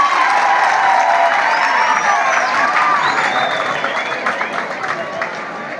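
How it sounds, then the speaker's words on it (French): An audience at a school Mass and building blessing applauds and cheers for pupils, a dense burst of clapping with whoops that slowly fades, while voices carry over it. "Applaudissez pour ces élèves."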